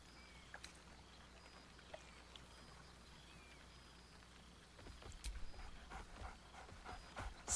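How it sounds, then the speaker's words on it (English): A dog in the video game Baldur's Gate 3 pants faintly in a quiet scene, with a few soft clicks. The panting grows slightly louder and busier toward the end. "Scratch barks merrily in something like agreement."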